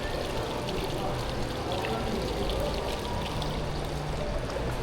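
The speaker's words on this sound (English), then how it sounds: "an operational, or at least partially operational, water fountain" An operational water fountain in a shopping mall, heard as a continuous splashing, pouring stream at moderate distance, steady throughout with mall ambience around it.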